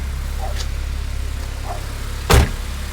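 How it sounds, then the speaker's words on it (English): A Honda Civic Type R engine idles with a low, steady hum, joined near the end by a brief sharp thump. "Engine runs solid."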